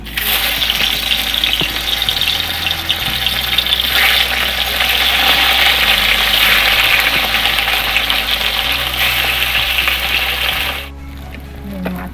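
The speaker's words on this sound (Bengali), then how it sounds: "আমি ওই মাছগুলো এবার ভেজে নেব" Pieces of catla fish fry in oil, a loud, close, continuous sizzling hiss with faint scraping and a low hum underneath that drops off abruptly near the end.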